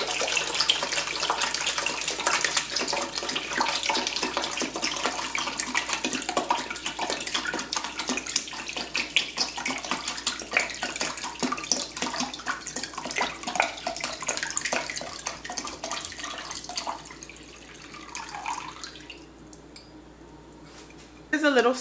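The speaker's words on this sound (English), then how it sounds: "I'm just going to go ahead and add water on here so you guys can see it fill up." Water splashes and trickles for about twenty seconds as it fills the reservoir of a Keurig K-Duo coffee maker, a steady close pour that fades near the end.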